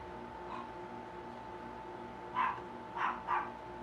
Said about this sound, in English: that little doggy sees them other doggies outside on the cameras and he's got to bark at them